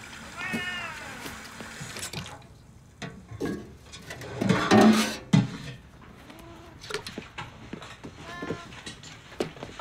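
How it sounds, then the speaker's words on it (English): A cat meows several times at moderate distance, with drawn-out tonal cries scattered across a quiet room, a louder burst midway, and faint voices in between. "How about the cat?"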